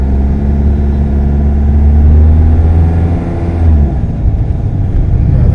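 A Mahindra XUV700 diesel SUV accelerates up a gentle climb, the engine drone rising loud and steady before dipping at a smooth gear change and pulling on again, heard from inside the cabin.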